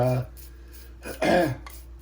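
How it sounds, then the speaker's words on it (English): A short throat-clearing cough, close and sharp, follows a brief voice, with quiet pauses around it. "Excuse me for coughing"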